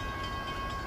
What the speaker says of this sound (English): Oh, it's gonna be a nice long train.